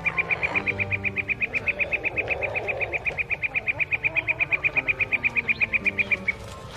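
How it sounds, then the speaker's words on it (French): A rapid, steady series of high bird twitters, around forty evenly spaced notes over six seconds from lost migrating birds overhead after a night snowstorm, standing out clearly above a low murmuring background. "Soudain, Babar entend, au-dessus de sa tête, un piaillement d'oiseaux."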